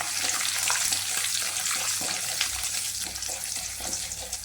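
Moong dal, urad dal and chana dal frying in hot oil with mustard seeds for kuzhi paniyaram give off a continuous, even sizzle and crackle, close and moderately loud, with no talking.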